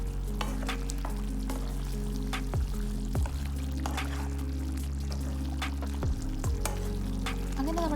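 Kanthari chicken curry with bird's eye chillies bubbles and fries in a pot while being stirred, a steady low sizzle with occasional spoon clinks and scrapes over a continuous low hum.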